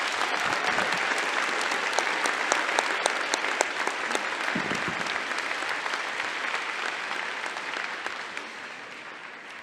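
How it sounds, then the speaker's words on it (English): A lecture-hall crowd at Youngstown State University gives Venus Williams a round of applause, a loud, sustained roar of many hands clapping that continues evenly for nearly ten seconds. "Please join me in a round of applause."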